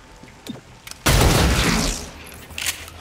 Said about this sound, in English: Can you shoot that guy, please?